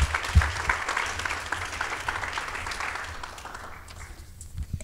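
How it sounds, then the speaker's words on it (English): Audience applause at a nonprofit awards ceremony, clapping that starts fairly strong and gradually thins and fades toward the end. "a round of applause for Terry, everybody."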